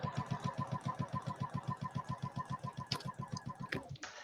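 A sewing machine chain-pieces fabric for a small Christmas table runner, running in a fast, even stitching rhythm close by, steady for several seconds before slowing and stopping with a couple of clicks at the end.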